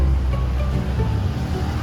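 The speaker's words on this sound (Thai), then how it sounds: "ครับคือชายทะเล เขาสามมุกนะครับ" Sea waves wash onto the shore at Khao Sam Muk in Thailand on a windy, rainy day. A loud, steady low roar of surf mixes with wind rumble on the microphone throughout.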